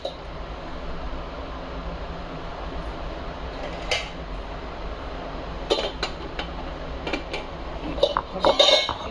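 Metal pots and a pressure cooker lid clank and scrape as the lid is worked onto the cooker in a kitchen, sporadic clinks over a steady fan-like hum, with the sharpest clatter near the end.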